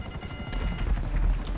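Rapid, steady chopping of helicopter rotor blades in Grand Theft Auto V, continuous and fairly loud, with no voices.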